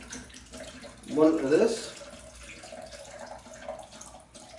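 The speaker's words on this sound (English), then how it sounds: "So I'm now going to pour in the X12, open that up" X12 black-and-white film developer chemistry poured into a container, a short splashing pour rising then fading after about a second, with someone talking over it.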